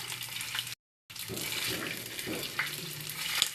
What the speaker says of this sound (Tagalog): Of course, pag piniprito, may mantika.